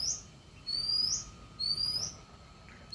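A sparrow chirps in short, high bright calls, three or four separate phrases spaced out over a steady low background hum, fairly close and clear.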